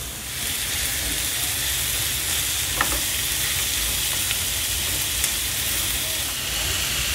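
Pork sizzling in a hot pan with garlic and ginger, a loud, steady close-up frying hiss with a few faint clinks of stirring.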